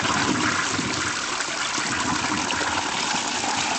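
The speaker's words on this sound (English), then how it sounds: "let's get a massive toilet flush sound effect to cap it off" A big toilet flush rushes and gushes steadily for a few seconds, loud and close, a dense churning wash of water with no voices.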